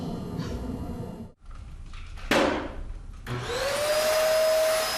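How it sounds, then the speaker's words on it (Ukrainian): An upright vacuum cleaner runs during a night shift cleaning a Seattle care home for the elderly. It drones steadily, cuts out briefly, restarts, and then spins back up with a rising whine, close and loud, with no talk. "З 11 вечора до 7 ранку Вікторія пилососить, миє підлогу, протирає поверхні та виносить сміття."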